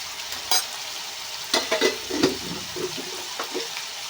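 Fenugreek leaves being stirred with turmeric, red chilli powder and coriander-cumin powder in a pan, giving a few soft scraping and stirring strokes over a faint sizzle, close by and fairly quiet.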